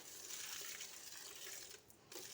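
Water splashes steadily onto vegetable plants in a garden, a continuous close pouring hiss for a couple of seconds, fairly faint and alone.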